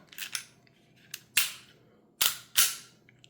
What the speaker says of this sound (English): it has 2 clicks when you're going to listen for the reset or feel for the reset